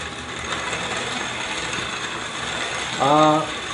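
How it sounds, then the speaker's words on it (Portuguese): A hand grain mill grinds malt for home brewing with a rapid, steady ratcheting clatter at moderate level, joined near the end by a brief tonal whine. "que é o primeiro moinho que todo cervejeiro caseiro começa. E aí a gente começa a moer."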